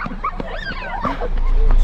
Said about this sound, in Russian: Собака с нами.